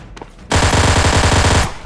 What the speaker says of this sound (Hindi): देखो कितने सारे गोलियां चलाना पड़ता है मेरे को